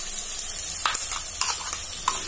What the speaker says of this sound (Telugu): చట్నీ వేసుకుని ఈ విధంగా బాగా వేపుకోవాలండి